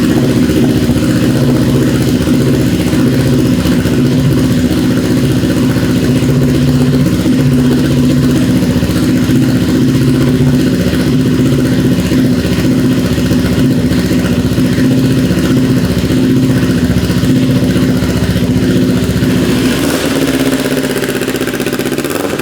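A Kawasaki Ninja 400 sport bike engine running after an ECU flash, a steady loud close idle with an even mid-pitched drone and a slight change near the end, no talk.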